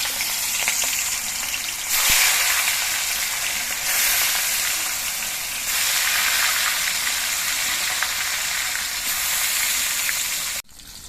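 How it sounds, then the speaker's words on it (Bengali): Fish frying in hot mustard oil in a kadai, a loud, steady close sizzle with bursts of spattering that swell and ease in waves, then cut off sharply near the end. "তেলটা গরম হয়ে গেছে এবার মাছগুলো ভেজে নিচ্ছি"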